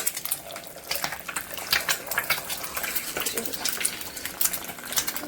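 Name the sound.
egg frying in hot oil in a wok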